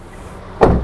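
A used car's door closes softly with one short, muffled thud near the end, after a quiet stretch, in a used-car showroom.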